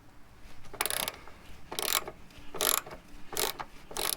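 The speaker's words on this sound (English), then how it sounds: "This right here, that's a 12mm bolt. So we'll crack this." Close, crisp clicking bursts come from a ratchet working a 12mm bolt loose on a Toyota Tundra, four or five short runs separated by brief pauses.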